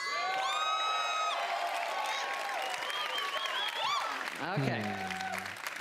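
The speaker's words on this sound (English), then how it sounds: "What are people cheering for?" Crowd cheering and applause fill a Bethesda E3 2018 presentation, a steady loud roar with whoops rising through it, while a voice speaks briefly over the noise.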